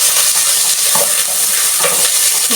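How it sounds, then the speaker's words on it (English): Onions and garlic fry together in a pan for an African cabbage and beef dish, giving a steady, loud, close sizzle that runs throughout, with a couple of soft stirring scrapes. "I'm going to fry the onions together with the garlic"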